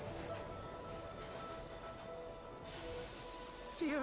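A train in a video game rolling in and braking to a stop, a faint steady rumble with a thin high whine and squealing wheels, and a brief louder metallic screech near the end.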